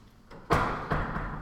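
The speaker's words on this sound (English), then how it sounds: "Let me close the door." A classroom door swings shut with one sudden, close thump, then a short hollow rumble over faint room noise. No one speaks.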